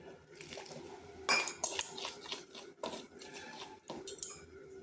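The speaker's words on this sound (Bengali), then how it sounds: "এরপর অল্প অল্প জল দিয়ে একটা ব্যাটার তৈরি করে নেব।" A spoon scrapes and clinks against a bowl while semolina batter is mixed with water added bit by bit, in uneven bursts of clatter with short pauses between.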